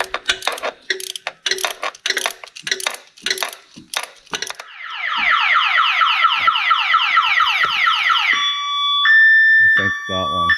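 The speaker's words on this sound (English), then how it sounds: "that alarm just will not die" The alarm on a 1986 Mustang GT wails loud and close in a continuous rapid warble, then shifts to steady tones. Mechanical clicking and a voice come before it.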